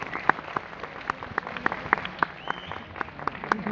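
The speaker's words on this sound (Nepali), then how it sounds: "बालेन शाहको लागि ताली बजाउनुहोस्।" A standup comedy audience at Naachghar, Jamal applauds for Balen Shah, with sharp individual claps scattered unevenly over a thin crowd patter, moderately close and without talk.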